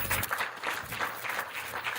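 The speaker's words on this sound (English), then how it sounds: "Clap for them." A standing crowd at a national labour conference gives a steady round of applause, a dense, continuous wash of many hands clapping at moderate distance, without speech.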